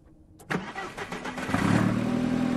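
A car engine in the horror video game Fear The Moon cranks and catches after a short pause, then rises into a louder, steady revving roar, close and alone.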